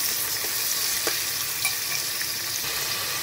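Two large onions fry in a pan for a village-style chicken dish, a steady hiss of sizzling oil with a few soft stirring scrapes.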